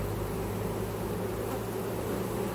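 A dense swarm of honeybees drones in a steady, unbroken buzz that stays loud and close the whole time, with no voices over it.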